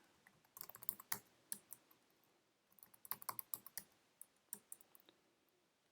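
Someone enters a password on a computer keyboard in quick, uneven bursts of crisp key clicks, close by and quiet, with short pauses between runs of keystrokes.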